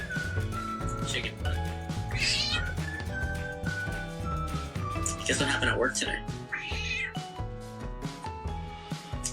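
A pet cat meows under a person's chatty talk, with music playing in the background throughout.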